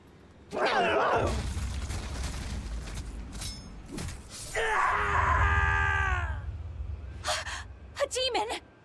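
Demon groaning and screaming in the video game Tales of Berseria, strained gasping cries and a drawn-out wailing groan over low rumbling, with scattered booming bursts.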